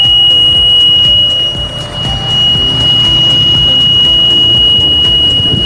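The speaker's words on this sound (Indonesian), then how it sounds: "Untuk buzzer pH akan otomatis mendeteksi bahwa nilai pH berada di luar ambang batasnya." A pH sensor's buzzer alarm sounds as a steady, piercing high-pitched electronic tone that holds unbroken for several seconds over a low background hum, with no talking.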